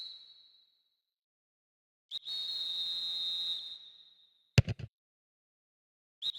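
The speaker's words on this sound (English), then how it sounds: "There's the whistle." A referee's whistle in a football match from a PS2 video game: one long, steady shrill blast, followed by a few short sharp chirps and clicks, clear and alone with no talk.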